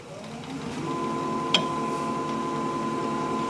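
Wood lathe spinning a natural edge maple bowl at about 1200 RPM, a steady whirring hum with a faint high whine and one brief tick midway, close and continuous.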